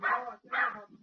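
A dog barks twice at close range, two full, even barks about half a second apart, with a soft whimpering trail after the second.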